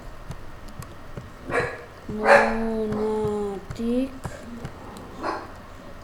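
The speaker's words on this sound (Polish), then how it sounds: "piesek szczeka se i mi przeszkadza" A small dog barks and yips in a few short bursts indoors, close by and fairly loud, with a person talking over and between the barks.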